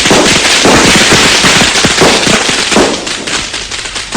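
Firecrackers and fireworks set off to celebrate the birth of a boy in China, a loud, dense barrage of rapid crackling pops running continuously, easing slightly toward the end.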